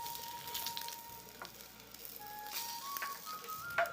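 Rohu-type bata fish sizzling and crackling steadily in hot oil, a continuous close hiss with a few sharper pops and faint clinks in the background.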